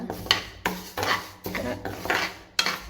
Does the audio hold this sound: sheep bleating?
no